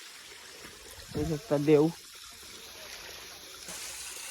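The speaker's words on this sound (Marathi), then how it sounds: "बघा छोटासा धबधबा गाईज." A small waterfall trickling on a hillside trail, heard as a steady, soft watery hiss throughout while a person talks briefly nearby.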